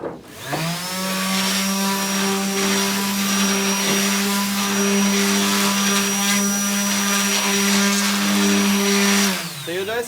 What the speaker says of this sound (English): We can also use a random orbital sander.